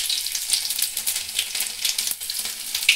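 Chopped garlic hits hot oil in a pan for a gajar methi sabji and sizzles in a steady, crackling hiss with small pops, close by and with no talk.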